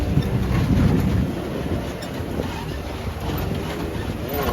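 A Can-Am X3 Max side-by-side running over sand dunes, steady engine drone and rumbling wind noise heard from the passenger seat, louder at the start then settling into a constant hum.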